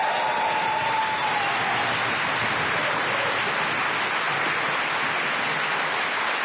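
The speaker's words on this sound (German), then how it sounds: "Und Applaus, meine Damen und Herren." A German TV studio audience applauds steadily, a dense, even wash of clapping that holds at a constant level throughout without talk.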